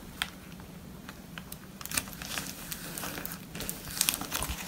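A plastic packet being glued into place gives soft, continuous crinkling and crackling, with light scattered taps and rustles close by at low volume and no talking.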